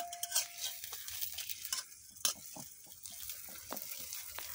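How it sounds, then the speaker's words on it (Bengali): Parathas frying in a kadai with very little oil over a clay stove, soft sizzling broken by scraping and stirring clinks of a utensil against the pan, fairly quiet and close, with no talk. "কড়াইয়ের মধ্যে পরোটা গুলা ভাজতেছি একদম অল্প তেলে।"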